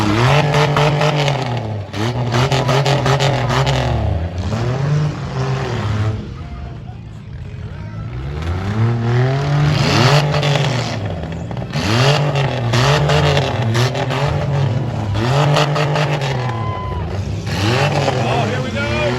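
Six-cylinder demolition derby cars at the 2025 Hants County Exhibition in Windsor, Nova Scotia, engines revving hard and rising and falling in loud repeated surges, with a busy crowd and an announcer's voice mixed into the roar.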